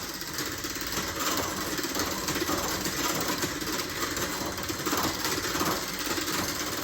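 An electric mixer whirs through a quick mix in a home kitchen, giving a continuous buzzing motor hum up close that stays fairly even, with no voices heard.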